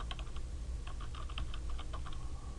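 Typing on a computer keyboard while entering a spreadsheet cell label, a quick run of close, crisp key clicks in short irregular bursts with no talk.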